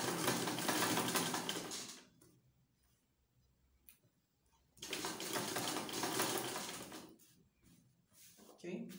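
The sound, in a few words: sewing machine stitching a side pocket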